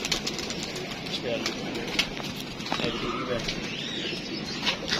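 Pigeons cooing softly with scattered bursts of wing flapping, a busy close flock sound with intermittent chirps throughout.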